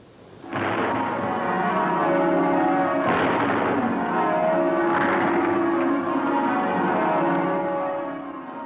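Church bells peal loudly and continuously at a coronation in the United Kingdom, joined by a couple of deep booming gun salutes that break over the ringing.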